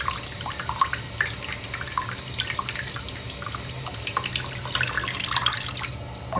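Water runs steadily from a tap, as crystals are rinsed under cold water, producing a continuous splashing hiss with small irregular drips and splatters throughout.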